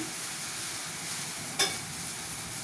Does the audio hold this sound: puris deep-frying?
yes